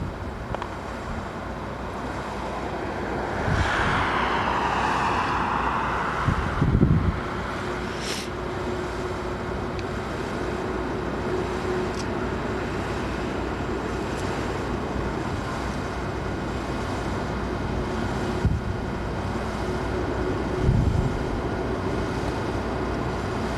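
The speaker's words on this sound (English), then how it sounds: "You can hear their blower, the torches going" A 1991 hot air balloon burner roaring at liftoff, heard as a distant whooshing blast that swells for a few seconds over a steady outdoor rumble of wind.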